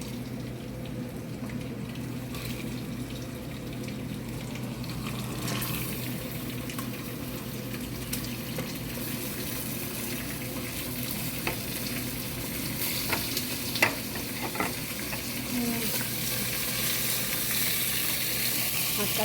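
Meat sizzling and frying with onions in a pot, a steady close crackle with occasional stirring scrapes running throughout, no talking.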